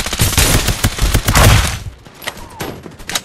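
Gunfire in the battle royale video game Farlight 84, a dense loud burst of rapid shots for the first two seconds, then sparser scattered pops trailing off.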